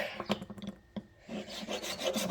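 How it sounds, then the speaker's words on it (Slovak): A metal file scrapes rusty contact surfaces of an old electrical contactor, with several short rasping strokes in an uneven rhythm followed by a longer run of quicker scrubbing, close and fairly quiet. "takže zoberieme pilník"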